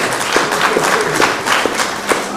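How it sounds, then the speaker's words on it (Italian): A room full of people claps together in a brief, dense burst of applause. "vorrei appunto fare un applauso al professore qui con noi"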